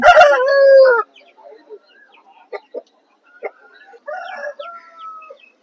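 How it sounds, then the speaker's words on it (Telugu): A fast rooster with black legs at a Vijayawada rooster market crows once, loud and near, right at the start, followed by scattered soft clucks and quiet market noise. "చాలా స్పీడ్ కలిగినటువంటి కోడిపుంజుగా చెప్తున్నారు నల్లకాటలు కలిగినటువంటి కోడిపుంజు"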